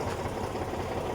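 A tractor engine idles with a steady, low, even rumble throughout a short stretch, with no voices.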